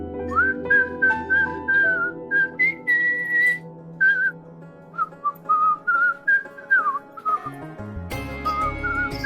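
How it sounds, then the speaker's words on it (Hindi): Someone whistles a melodic tune at close range in a TV drama scene, sustained clear notes in phrased runs over a faint musical background, and the sound turns fuller near the end. "सीटी का आवाज आ रहा है।"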